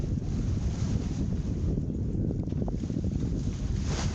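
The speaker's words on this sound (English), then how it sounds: "There wasn't a whole lot of wind in our favor, so they didn't have the sails up at this time. They were going under engine power." A sailboat motors along under engine power with its sails down on a calm-wind sea excursion off Puerto Vallarta, Mexico: a steady low engine rumble blended with constant wind buffeting the microphone and water wash.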